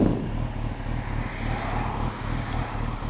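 A Kawasaki ZX10R motorcycle idling and creeping forward on the clutch, a steady low engine rumble close by with no revving, heard alone.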